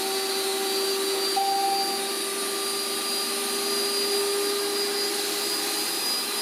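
A yeedi cube robot vacuum running at maximum suction gives a steady, even whine and airy hum with faint tonal overtones, continuous throughout with no voices.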